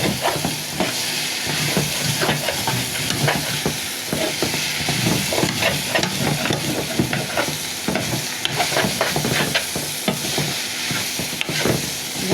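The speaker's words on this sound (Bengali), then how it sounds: "নাড়াচাড়া করে দিব মাছের সাথে।" Ground spices including cumin and coriander powder being stirred into spiny eel fish frying in a pan, with a steady loud sizzle and repeated scraping stirs throughout, no voices.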